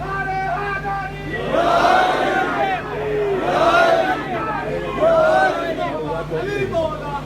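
A crowd at a Shia majlis chants Naara-e-Haidari slogans in three swelling voiced waves, a lead call rising over the gathered voices in a reverberant hall.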